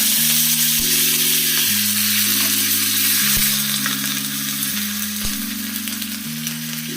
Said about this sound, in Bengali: এবার আমি এর মধ্যে কারি পাতা অ্যাড করে দেব।